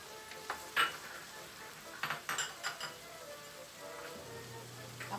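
Squash and string beans tumble into a pot of pinakbet, Ilonggo style, giving a few soft thuds and clatters of vegetables and utensil against metal over a low, steady simmer.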